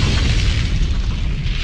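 Dynamite cartridges detonate under a passing train at around midnight, derailing the locomotive and carriages: a loud, deep, rumbling boom that fills the whole moment, with no voices.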